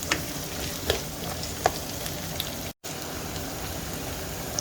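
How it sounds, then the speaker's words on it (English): A whole red onion sautéing in a pan for a dried fish and crab stew gives a steady, close, low sizzle with scattered small pops, alone without any talk, and one brief dropout partway through. "We're gonna saute this and let the onions soften probably about a minute."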